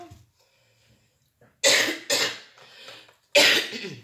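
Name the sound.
cough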